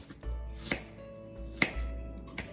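A knife chops onions on a cutting board in three or four sharp, well-spaced strokes, close and quiet, with no talk.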